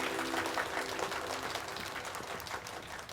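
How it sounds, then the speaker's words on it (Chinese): Applause for the winning dessert master at a cooking competition, a steady burst of clapping from an audience that gradually tapers, with a faint voice underneath. "掌声祝贺他"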